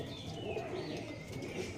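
Punjabi Malbai pigeons coo softly in low, continuous murmurs, fairly faint and close, with some light chirping and no talk.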